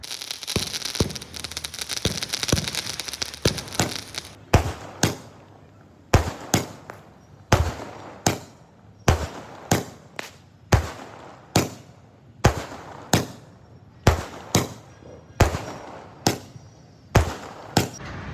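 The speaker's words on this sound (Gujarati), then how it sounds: "એકદમ જોરદાર સ્કાય શોટ આવી ગયા છે, બોમ્બ પણ આવી ગયા છે" Sky shot fireworks and firecracker bombs burst in Vadodara: a dense crackling barrage at first, then a long series of single sharp bangs spaced about a second apart, loud and close with no talk.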